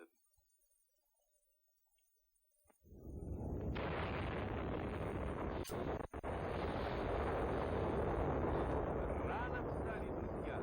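Russian bomb explosion with its blast wave: after near silence a sudden loud, sustained roaring rumble breaks in and carries on, broad and heavy.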